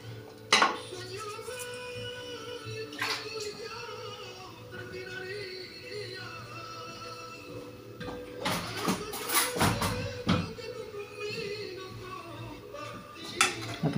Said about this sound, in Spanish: Voy a echar las patatas